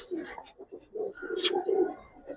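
Giribaz pigeons cooing on a rooftop loft, a soft run of low, close coos with a brief higher flutter or call midway, with almost no talk.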